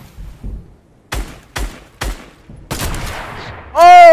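Gunfire in the video game Fortnite with a sniper rifle involved: several sharp, loud separate shots spaced about half a second apart, then a longer burst, ending in a sustained tonal sound.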